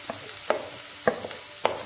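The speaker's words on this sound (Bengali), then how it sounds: "বিনসটাও ভালোভাবে আমি ভেজে নেব।" Green beans fry in a pan as a utensil stirs them, leaving a steady sizzle with three or four distinct scraping clicks spread across a short stretch, close and moderately loud, with no voices.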